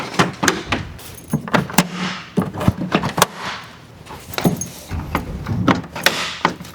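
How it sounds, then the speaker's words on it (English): A front grille is fitted back onto a Ford F-150 pickup with a series of sharp plastic clicks, snaps and knocks, irregular and fairly close, some of them louder pops as clips seat. "All right, I'm going to reinstall the grill."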